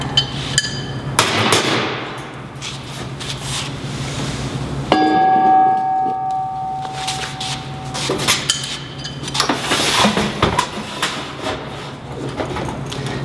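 Metallic clinks and a firm knock as a gas regulator is snugged down onto an argon/CO2 mix cylinder for a YesWelder MIG 205DS welder, with a brief high ringing tone mid-way among scattered handling clatter.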